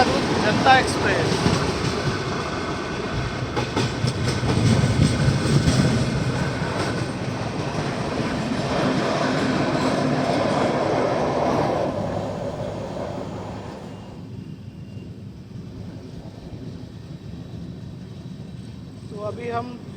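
Kashi Vishwanath Express passenger train running near Roza Junction, a loud continuous rumble and rattle of wheels on track with rushing wind, swelling mid-clip and then easing to a quieter, steadier roll.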